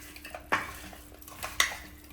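Country chicken stirred in a metal cooking pot, Telangana style, with two distinct scraping clinks of a spoon against the pot amid faint sizzling, quiet and close.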